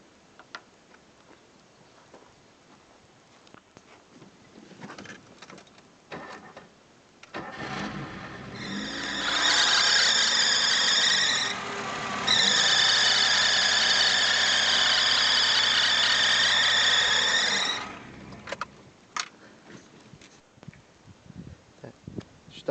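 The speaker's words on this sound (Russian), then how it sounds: "Вот именно на этом автомобиле ремень свистит после запуска." A car's alternator drive belt lets out a loud, steady high-pitched squeal right after the engine starts, holding for about ten seconds with a brief dip, over the idling engine and some ticking, then cutting off.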